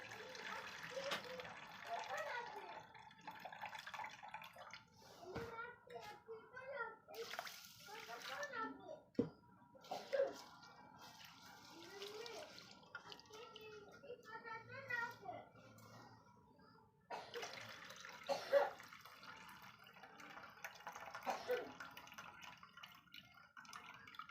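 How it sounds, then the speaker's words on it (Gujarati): Rinse water splashes and drips as it is drained off washed moong dal and rice in a home kitchen, heard intermittently beneath a voice talking throughout. "પાણી કાઢી નાખશું"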